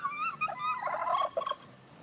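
A pet turkey gobbles nearby in a quick warbling burst, the rapid throaty calls rising and tumbling for about a second and a half before trailing off.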